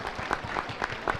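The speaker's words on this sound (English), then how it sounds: "Everyone, please give a clap for all these lovely school leaders on our stage." An audience at an education fair claps for school leaders on stage, a thin, fairly quiet patter with a few brief swells, heard from a distance.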